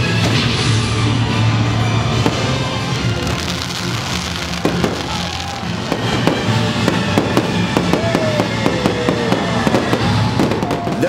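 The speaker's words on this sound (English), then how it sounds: "we got to see the stage show and the pirate fireworks at sea" Pirate-night fireworks launched at sea crackle and pop in dense, repeated bursts over continuous crowd and ambient noise, loud and sustained throughout.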